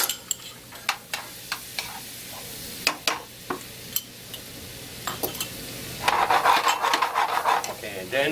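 Garlic sizzling in butter or olive oil in a pan for lobster américaine, a soft hiss under repeated sharp clinks of a utensil against the pan, swelling into louder stirring and frying toward the end.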